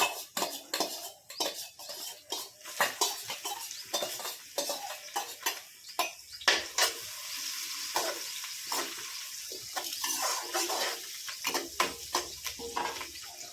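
Finely chopped onions are added to a hot pan and fried in a village kitchen, with sharp clatters of a metal spoon against the pan over a soft sizzle, repeated stirring knocks all through.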